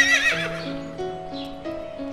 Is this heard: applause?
no